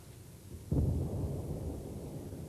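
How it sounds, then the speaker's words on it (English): A single deep, distant boom from bombs falling during the Russian bombardment of Grozny rolls out suddenly and fades into a long low rumble, with no voices. "The thunder of bombs rolled out from Grozny as Russian forces prepared to take the city area by area"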